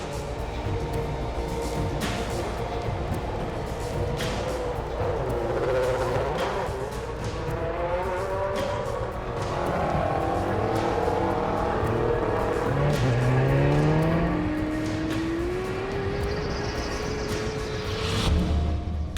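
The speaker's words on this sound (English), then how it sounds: "David deliberately spins his rear tyres to make them hotter and stickier, so he has more grip off the line" Formula One car with David Coulthard at the wheel on a slow out lap, engine droning steadily and rising in pitch with revving as the rear tyres are deliberately spun, a brief squealing sweep near the end.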